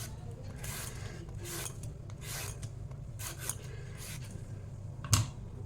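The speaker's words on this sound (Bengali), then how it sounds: "এই যে এরকমভাবে সবগুলো ক্ষীরা আমি ছুলে নেব।" Cucumbers are peeled by hand for shukto, with a series of soft, rasping scraping strokes repeating at an irregular pace, close and fairly quiet, ending in a sharper knock.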